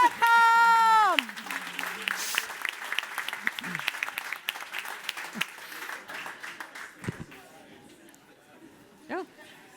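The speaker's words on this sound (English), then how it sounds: "The applause is for you, for being so open-minded." Audience applause at the Falling Walls Science Summit, a steady crowd clapping after a loud opening musical or tonal swell, gradually thinning toward the end while voices murmur underneath.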